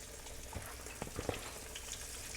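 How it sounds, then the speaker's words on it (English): Flour-coated food frying in hot grease, a soft, steady sizzle with a few faint pops and crackles as pieces are laid in, no talk. "Do you hear it sizzling?"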